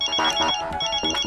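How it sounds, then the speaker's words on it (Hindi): A phone ringtone chirps in quick repeated electronic bursts, loud and close, an incoming call from the office. "ऑफिस से फोन है"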